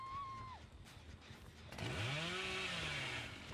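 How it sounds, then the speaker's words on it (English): Leatherface's chainsaw in the video game Dead by Daylight revs up, a loud buzzing engine with rising and falling pitch sweeps after a quieter opening, running to the end of the clip. "Then we can chain together the chainsaws."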